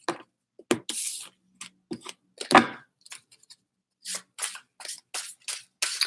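Tarot cards shuffled by hand for a Pisces reading, giving a run of short, crisp riffling and slapping bursts with brief gaps, close and fairly quiet, with no voices.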